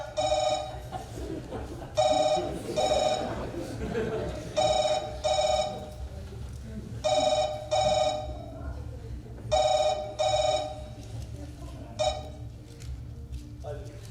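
Telephone bell ringing in repeated bursts of rings separated by short pauses, fairly loud and clear. A voice talks faintly underneath and between the rings.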